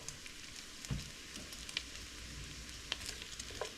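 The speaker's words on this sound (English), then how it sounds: "But you want the bacon crispy so that you can crumble it." Bacon frying crisp in a pan, a steady soft sizzle with occasional pops and crackles, close and fairly quiet with no voices.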